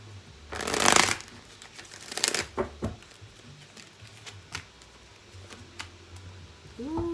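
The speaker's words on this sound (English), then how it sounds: "Did y'all see me just shuffle 3 times?" Tarot cards are shuffled by hand, with a loud riffling burst near the start, a second shorter burst, then scattered light card taps and slides, close to the microphone with no talking.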